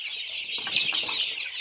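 Young bek chickens give a brief burst of soft clucks and a flutter of wings, close and short, with no voices.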